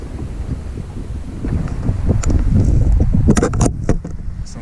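Wind gusts blow hard across the mic on a beach beside a lighthouse, a rough rumbling roar that rises midway, with a few faint clicks near the end.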